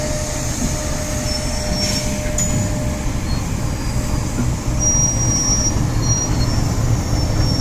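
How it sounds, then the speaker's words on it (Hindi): A Pakistan Railway GE U40 diesel locomotive pulls a train past with a constant heavy rumble of rolling wheels, with faint metallic squeals from the wheels above it. "और GEU40 बहुत ही हैवी पावर है, पाकिस्तान रेलवे की सबसे ज़्यादा पावरफुल लोकोमोटिव"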